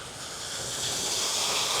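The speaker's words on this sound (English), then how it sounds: "Sorry about the noise in the background." Steady rushing waterfall in a Kuala Lumpur city park, a broad hissing roar of falling water that swells slightly and continues without a break, fairly close and loud.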